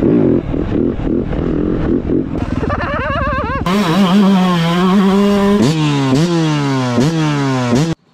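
A Yamaha 450 YZF 2025 motocross bike works on a hilly dirt track, loud and close, its engine rising and falling through repeated revving sweeps and gear changes, with other bikes snarling in the background.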